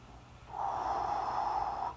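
A slow, deep breath drawn in and out while bending forward in a seated back and leg stretch, a soft steady airy rush that swells after a quiet start and holds close to the listener, with no talking.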